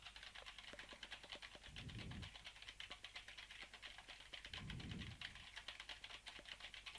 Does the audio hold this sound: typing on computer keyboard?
yes